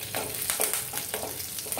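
A few curry leaves fry lightly in hot oil, crackling and sizzling close by with small popping bursts over a soft steady hiss.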